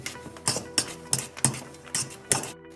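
A utensil mixing gnocchi dough with salt, pepper and parmesan in a bowl, giving seven regular scraping, clinking strokes at a steady rhythm, close and without talk.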